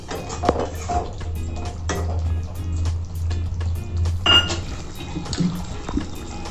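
Water is poured into paneer masala in a pan, a short splash followed by metal clinks and scraping of a utensil against the pan, close up and without talk.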